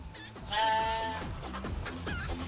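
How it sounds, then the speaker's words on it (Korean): A baby goat born the day before gives a clear, close bleat, one wavering cry followed by a few softer, fainter calls. "바로 여기 있는 작은 염소가 어제 태어난 새끼 염소거든요."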